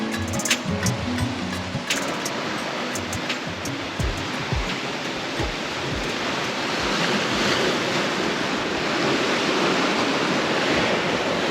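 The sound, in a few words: ocean waves and wind at sea on a sailboat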